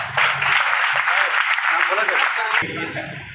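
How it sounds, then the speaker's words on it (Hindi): Audience applause at a motivational talk, a dense burst of clapping that fills the room, with a voice rising briefly within it before the clapping cuts off sharply near the end. "एक बार तालियां हो जाए।"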